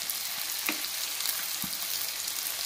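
A teaspoon of ginger garlic paste sizzles in a hot pan while a shallot mutton curry is being cooked, giving a steady, close crackling hiss with a few soft stirring knocks.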